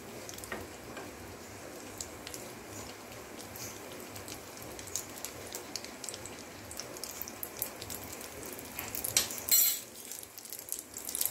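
Five-spice tempering for lentil dal frying lightly in hot oil, a steady soft crackle and fine popping spitting throughout, growing a little busier near the end.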